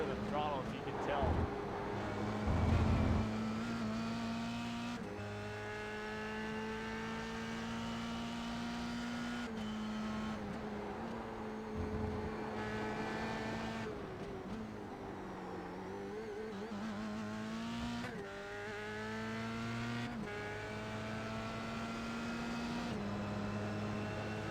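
Race car engine in a racing video game, its pitch rising and falling steadily as the throttle is feathered through turns, running continuously at moderate level beneath someone talking.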